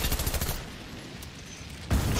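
Rapid bursts of video game gunfire crackle in two dense stretches, at the start and again near the end, with a quieter lull of game ambience between them.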